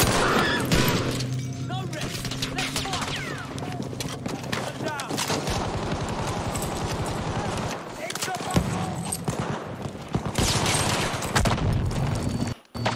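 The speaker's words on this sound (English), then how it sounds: "Got a machine gun." Machine gun fire in Battlefield V gameplay: sustained rattling bursts and scattered heavy booms go on throughout, with players talking over the shooting.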